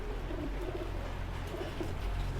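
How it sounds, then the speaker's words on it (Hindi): Punjabi fulsare pigeons coo in low, soft, repeating murmurs close by, under a steady background hum with no talk. "फुलसरे कबूतर हैं ये, फुलसरे पंजाबी कबूतर हैं"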